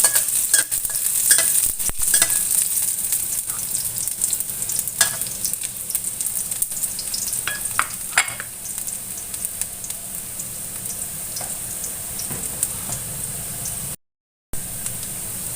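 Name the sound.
stir-frying aromatics in a pan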